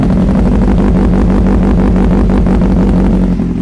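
A Kawasaki Z800 motorcycle fitted with a short Spark exhaust idles and revs steadily up close, a loud, continuous rumbling engine tone with no pauses.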